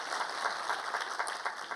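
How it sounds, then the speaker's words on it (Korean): A church congregation applauds together, a steady wash of many hands clapping at moderate distance, with no voices over it. "우리 하나님께 감사와 영광의 박수를 드리겠습니다."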